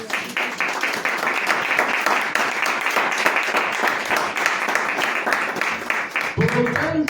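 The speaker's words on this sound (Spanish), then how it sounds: "Dame ofrenda de palmas al Señor." A church congregation claps as an offering of praise, a steady, dense stream of many hands sustained throughout, with a low thump entering near the end.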